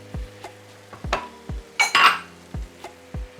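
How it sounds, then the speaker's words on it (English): Squid being stirred into a masala of spices and garam masala in a pan over a high flame, with a loud spatula scrape partway through, a run of sharp clinks against the pan and a soft sizzle underneath. "Just give it a mix."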